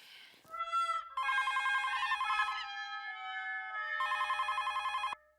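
An electronic telephone rings indoors, sounding two long trilling bursts separated by a brief pause, clear and fairly close with no talking.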